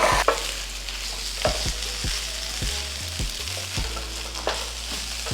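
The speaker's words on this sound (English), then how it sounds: "Now let's give it a toss. Stir around, mix it up in." Green and white onions stir-fried in hot oil in a pan, a steady close sizzle broken by repeated scraping stirs and tosses, with no talking.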